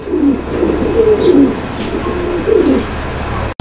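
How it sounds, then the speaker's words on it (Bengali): Pigeons coo in a close, steady stream of soft, throaty calls that repeat in rolling phrases over a low background hum, with no voices. "এখানে আরো এক জোড়া কবুতর, একদম লাটিমের মতো দর্শক বন্ধুরা, একদম গোলগাল একটা পেয়ার"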